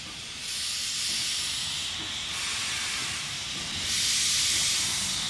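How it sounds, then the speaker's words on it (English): A steam locomotive on an Indian railway vents a loud, continuous hiss of steam that holds steady throughout and swells stronger near the end, with no voices. "The steam locomotive looks fascinating, it sounds fascinating."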